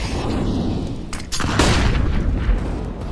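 Grenade explosions in Counter-Strike, a professional match between Heroic and G2, produce deep, loud booms with a rumbling tail that swell and overlap near the middle, over a steady low game ambience.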